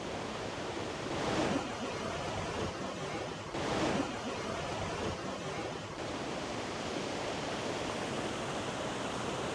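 A woodland stream at Kennall Vale, heard as a steady rushing of flowing water at moderate distance, continuous and unbroken, with no voices.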